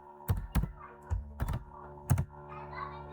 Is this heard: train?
no